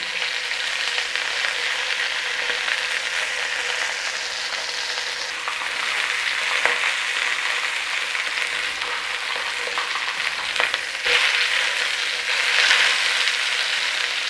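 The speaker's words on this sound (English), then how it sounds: "put a little bit of a sear on that fat cap on the side" A steak's fat cap sears in a hot frying pan with a steady, dense sizzle and crackle that runs the whole time, with a few sharper spits and pops late on and no voices.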